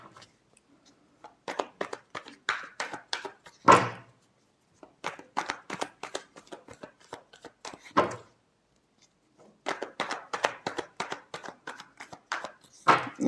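Tarot cards shuffled by hand in several quick riffling bursts with short gaps and one sharper tap, close and clear, with no talking.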